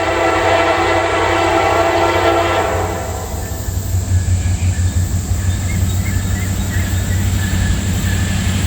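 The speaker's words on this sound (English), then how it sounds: "There's another Norfolk Southern coming." A Norfolk Southern freight train rumbles past close by, a steady loud roll of wheels and cars with a horn blast sounding over the first few seconds before the horn stops and the clattering continues.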